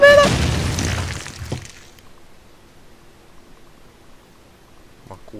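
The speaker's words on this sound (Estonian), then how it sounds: "Ma kuulen neid plahvatusi, nagu nad oleksid lähedal, aga nad ei ole." A loud, close explosion from Call of Duty: Modern Warfare on the Crossfire map bursts out and fades over about two seconds, leaving quiet rumbling, with a faint thump near the end.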